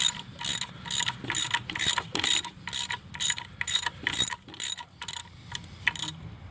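A ratchet clicks rapidly in repeated bursts while loosening a bolt on a Chevy Cruze engine, close and loud with brief pauses between strokes, no talking.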